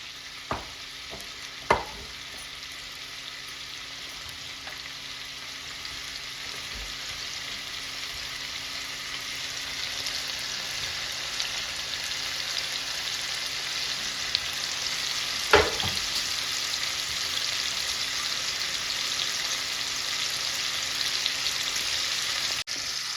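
Chicken masala frying in a pan gives a steady, fairly loud sizzle throughout, broken by a few sharp scrapes and clicks of a spoon as it is stirred now and then, with no talking.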